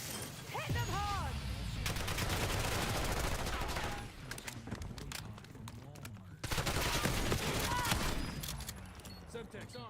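Gunfire in the video game Black Ops 6, dense rapid automatic bursts and overlapping shots filling nearly the whole stretch, loud and continuous with a brief lull partway, while a voice shouts over the combat.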